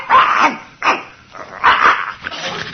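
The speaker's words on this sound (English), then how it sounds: "The dog's wagging his tail." A dog in an old time radio drama barks and yelps in four close, loud bursts with short pauses between them.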